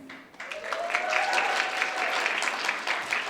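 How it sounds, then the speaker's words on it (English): Audience applause at a formal evening gathering honoring past chapter presidents, a steady burst of many hands clapping at moderate distance, briefly overlapping a fading voice at the start. "Please join me in a round of applause for the past presidents."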